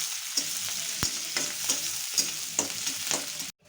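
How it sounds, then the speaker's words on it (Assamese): Onion and chillies sizzle steadily in leftover fish-frying oil, with occasional sharp scrapes and clinks of a stirring spoon over a continuous close hiss, cutting off abruptly at the end. "এতিয়া মই এইখিনি মাছ ভজা তেলখিনিতে দিম পিঁয়াজ আৰু জলকীয়া।"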